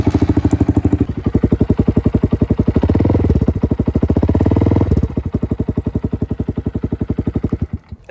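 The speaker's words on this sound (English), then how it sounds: "The sound of the exhaust is absolutely awesome." A 2022 Honda Grom small motorcycle fitted with an aftermarket Zoom exhaust idles and blips its throttle, giving a loud, rapid, even thumping pulse that quickens briefly during two revs before settling back to a steady putter.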